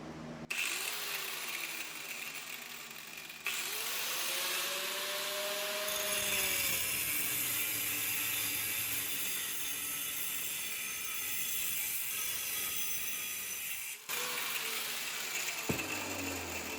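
A Sawzall reciprocating saw cuts through an aluminum window screen frame, a loud continuous buzzing rasp that runs for most of the stretch with brief pauses and restarts, close up and alone with no talk.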